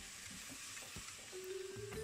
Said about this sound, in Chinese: 下菠菜翻炒